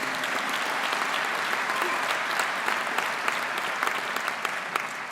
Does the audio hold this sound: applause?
yes